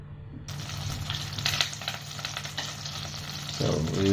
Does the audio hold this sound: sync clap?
no